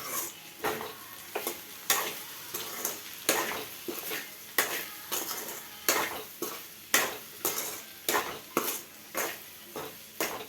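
Salt being mixed into food frying in a pan, rhythmic scraping strokes of a spoon against metal, roughly one every half second, over a continuous close sizzle.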